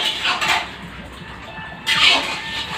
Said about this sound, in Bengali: দুটো কড়াই এখন চাপিয়ে দিই